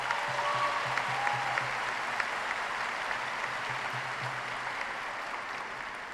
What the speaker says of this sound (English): Please join me in a round of applause for these distinguished guests.